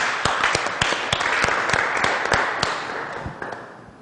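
An audience claps at an event honoring a lawyer, a steady patter of many hands with sharp individual claps, fairly close, fading slightly toward the end.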